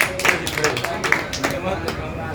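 Audience clapping at a training program in a shopping center in Bhitarwar, a brief burst of uneven claps mixed with a voice talking.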